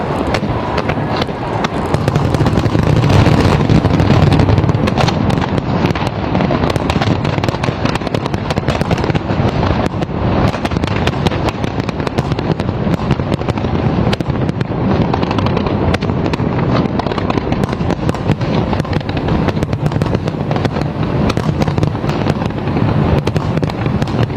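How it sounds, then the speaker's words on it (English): A dense, continuous barrage of New Year's fireworks in Thailand crackles and booms nonstop, loud and layered, with rapid pops blending into a roaring wash. "Thailand ringing in the new year with a dramatic fireworks display"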